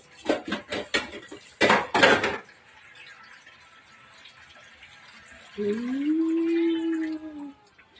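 Metal pots and vessels clattering in a bachelors' shared room, with a rapid burst of sharp clanks followed by quieter knocks, then a sustained ringing tone as one vessel resonates.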